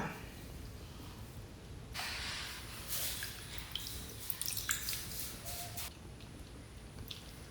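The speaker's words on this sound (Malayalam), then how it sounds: "നമുക്ക് പുളി അത് പിഴിഞ്ഞ് പാരാം" Tamarind squeezed by hand in water for a fish curry, giving faint, close, irregular wet squishing and trickling drips over a quiet background.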